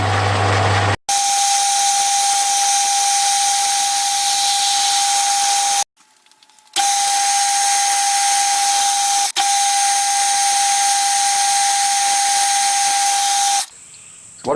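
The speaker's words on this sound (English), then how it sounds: "I'll take the 1/8 drill bit through until it's drilling at the other end" A drill runs a 1/8 inch bit through the steam chest of a Stuart Turner Number 8 mill engine, giving a steady high whine in long stretches broken by short pauses.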